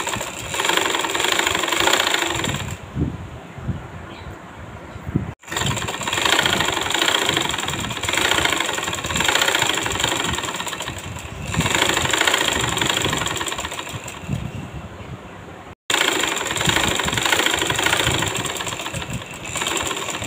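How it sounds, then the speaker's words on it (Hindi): A sewing machine stitches salwar trouser panels together, running in long, loud, continuous bursts with a rattling mechanical drone. It stops briefly twice between runs. "सिलाई लगा लेंगे।"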